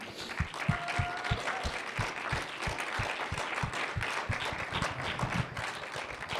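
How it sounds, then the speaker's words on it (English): Steady applause from a stand-up comedy audience at a fan convention, dense clapping throughout with a few louder claps standing out, heard from within the audience. "if we could just give a round of applause for them"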